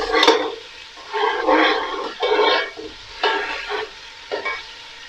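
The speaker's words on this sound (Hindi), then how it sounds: "अब हम इसमें डाल देंगे जिंजर गार्लिक पेस्ट, हम इसको कर लेंगे मिक्स।" Golden-brown onions sizzling in hot oil as ginger garlic paste is stirred in for beef pulao, with loud bursts of frying and scraping stirs in uneven waves, close and alone.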